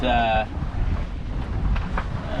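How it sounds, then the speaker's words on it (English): A sailboat's motor runs at low RPM during a sea trial, giving a steady rumbling drone under heavy wind buffeting on the microphone, with a brief tonal whine at the very start. "Motor seems to be working well so far."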